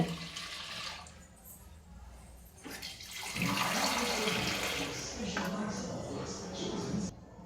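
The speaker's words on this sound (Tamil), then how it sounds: "இப்போ தண்ணி ஊற்றிக்கலாம் வேணுங்கிற அளவுக்கு" Water pours steadily into a pressure cooker, a broad rushing splash that grows louder midway and continues for several seconds, with a voice talking over it.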